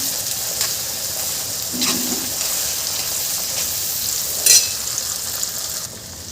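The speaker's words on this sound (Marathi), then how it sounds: "हे छान मिक्स करून घ्यायचं आहे" Tomatoes sizzle and hiss steadily in a hot pan, with a few short scraping stirs and a sharp clatter partway through, close and continuous with no talk.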